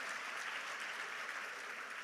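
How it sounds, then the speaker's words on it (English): An audience at a talk on Sri Lankan politics gives itself a round of applause, a soft, distant, continuous wash of clapping with no breaks. "Please put your hands together and give a round of applause to yourself for coming here to listen to this"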